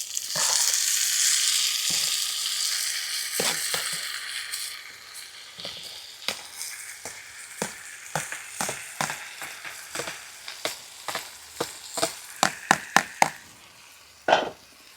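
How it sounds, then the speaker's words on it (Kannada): Tomatoes hit a hot pan for tomato gojju in a rustic Karnataka kitchen and set off a bright, hissing fry that settles into irregular crackles and pops, close up with no talking. "ಇವಾಗ ಟೊಮೆಟೊ ಹಾಕ್ಕೊತಾ ಇದ್ದೀನಿ"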